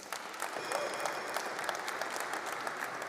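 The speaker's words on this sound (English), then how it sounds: "One more round of applause, please, for those founders." Steady audience applause at a startup pitch competition regional final in Berlin, dense clapping sustained throughout at moderate distance with no talk over it.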